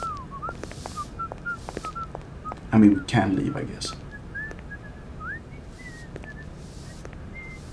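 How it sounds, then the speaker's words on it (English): A character in the Syberia video game whistles a steady tune of short, clear repeated notes aboard a train, continuing throughout while a person speaks briefly over it. "The game leaves us with this whistling guy,"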